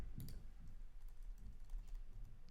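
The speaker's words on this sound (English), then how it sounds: "I'll just use the arrow keys to kind of close up that gap." Arrow keys pressed on a computer keyboard while nudging an animation, a run of light, quick taps spaced irregularly, close and fairly quiet with no talk.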